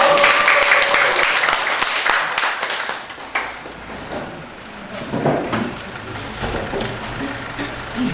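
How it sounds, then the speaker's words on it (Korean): Audience applause at a community forum welcoming a regional revitalization center director, dense clapping loud at first, then thinning and trailing off into scattered claps and room noise. "저희 박수로 센터장님 모시고 가겠습니다"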